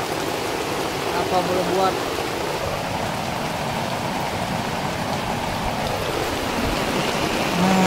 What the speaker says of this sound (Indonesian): hujan deras guys